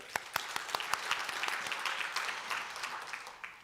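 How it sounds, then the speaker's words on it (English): Applause from an audience at an expert talk on stage, a fairly soft but continuous clatter of many hands with scattered sharper claps standing out, heard alone. "give her a round of applause"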